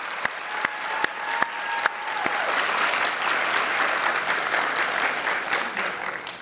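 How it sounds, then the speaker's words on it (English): A few sharp individual claps quickly swell into full, sustained audience applause at a 2016 Teacher of the Year awards ceremony, staying even and moderately loud to the end. "I'd like to ask everyone to join me in giving them both a much-deserved round of applause."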